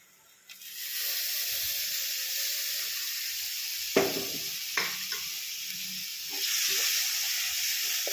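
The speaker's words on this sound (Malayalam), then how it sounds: "ഇനി നല്ലപോലെ ഇളക്കി കൊടുക്കണം" Ground coconut paste hits frying fish curry masala in a pan and flares into a loud, steady hiss of sizzling, with a few distinct scrapes and knocks of a spoon stirring it close by.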